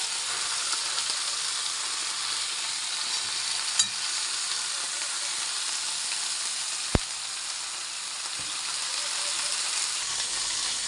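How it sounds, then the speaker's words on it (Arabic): Duck sizzles in butter in a pan, a steady loud frying hiss that continues throughout, with a couple of faint clicks from stirring or turning the meat. "بعد بقى ما شوحت البطه الزبده زي ما وريتكم كده"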